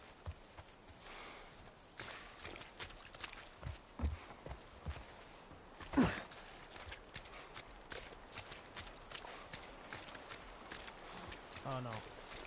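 Horse hooves clip-clop in The Last of Us video game, a run of irregular, fairly faint steps sounding across the clip.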